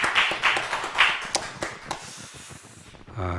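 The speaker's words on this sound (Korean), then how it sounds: "우리 하나님께 영광의 박수 올려드리겠습니다." A church congregation claps at a Korean Sunday afternoon worship service, a burst of applause in uneven bursts that thins out into scattered claps, with a voice coming in at the end.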